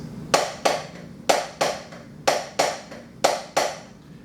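Drum strokes in evenly accented triplet groups, each sharp close hit followed by two lighter ones, repeating steadily about once a second with no talking.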